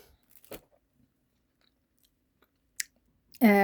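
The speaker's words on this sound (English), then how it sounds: "I have some coffee here and I'm chewing the beans of it" Coffee beans being chewed close up: a few sharp, isolated crunches separated by quiet gaps, followed by a voice starting at the very end.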